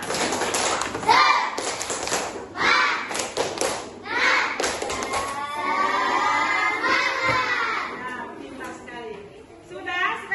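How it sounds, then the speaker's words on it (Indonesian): A class of young children claps a rhythmic spirit clap in a classroom, bursts of quick hand taps and thuds alternating with their chanted voices, lively and close. "Sekarang kita tepuk semangat."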